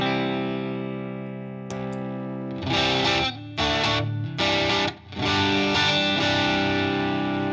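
Electric guitar through a King of Tone clone distortion pedal built from a Pedal PCB Paragon Mini kit, a sustained chord ringing out, then loud, gritty strummed chords in short bursts with brief gaps, played alone.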